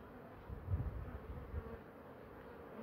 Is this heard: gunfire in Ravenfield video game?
no